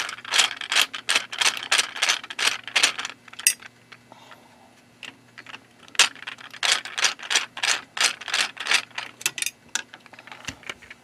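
Small screws being taken out of a Holmes HCH 4163 ceramic heater, a close run of sharp metallic rattles and clinks in quick bursts, like loose screws dropped and jostled, with a brief lull midway.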